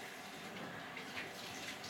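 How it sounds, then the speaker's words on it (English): Water splashes in the shooter game Pixel Gun 3D, a steady soft wash of watery noise running through the whole short moment at low volume, with no speech over it. "You just splashed water on me"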